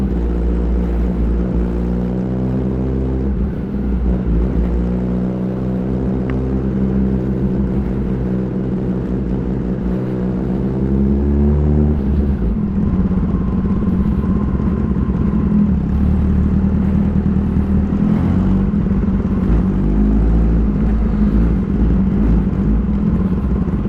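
2021 Kawasaki ZX-10R superbike with an Austin Racing exhaust, a loud, close engine roar with a deep rumbling tone that rises and falls with revs, then settles into a steady drone while riding.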